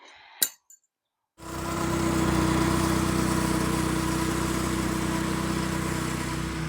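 A California Trimmer Classic reel mower's small engine starts after a few brief clicks and a short silence, then runs steadily, loud and close, with a constant droning hum and no talking.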